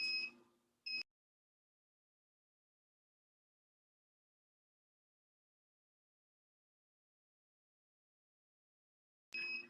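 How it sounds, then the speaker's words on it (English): A coffee pot gives short electronic beeps, two quick tones at the start and another near the end, separated by long silence, with no talk. "I think that's something's beeping over here."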